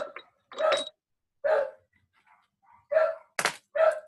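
Cocker spaniel barking indoors, four or five short sharp barks spaced irregularly with quiet gaps, fairly close and clear.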